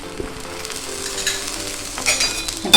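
Breakfast frying in a little oil in a pan, a steady soft sizzle with faint scraping and a few light clinks, louder hissing flares near the end.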